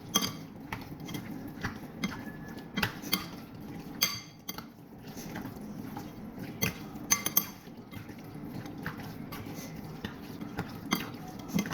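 A spoon clinks and scrapes against a bowl while yogurt is stirred for zinia shawarma, with soft, irregular taps and a faint stirring texture, quiet and close, no talking.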